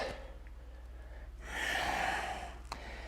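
Breathing during a yoga flow sounds as a single soft, airy inhale that swells for about a second over a low steady hum, close and quiet.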